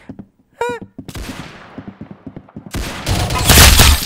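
Video game gunfire rattles in a quick burst of close, loud shots, preceded by a short tonal chime and followed by a dense, noisy crackle of rapid fire.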